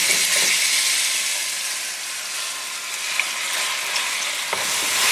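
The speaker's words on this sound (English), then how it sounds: "I'm going to fry our sliced onion, just about half a sliced onion" Half a sliced onion frying in hot oil until golden brown, a loud steady sizzle and hiss running without a break, with a couple of faint clicks from stirring and no voices.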